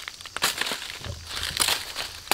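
A rotten, decayed nutmeg tree stem crumbles apart in a hand on a plantation, giving close dry crackling and crunching bursts with brittle snapping through the short span, no talk over it.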